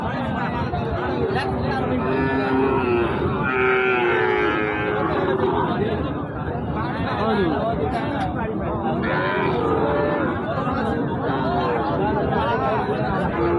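Bulls of Indian, Gir, Sahiwal and local breeds low and moo at a crowded border cattle market, their calls rising over constant chatter and bargaining voices throughout.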